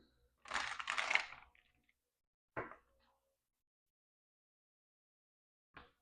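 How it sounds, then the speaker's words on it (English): Oracle cards are shuffled near the microphone in a quiet room: one dense riffling burst lasting about a second, then two short soft card taps separated by silence. "I forgot to shuffle these."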